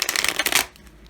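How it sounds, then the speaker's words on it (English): A riffle-style poker shuffle of a brand-new Lo Scarabeo Jack O' Lantern tarot deck, heard as a quick close burst of flicking cards that stops abruptly after a moment. "Maybe I'll try to do my poker shuffle."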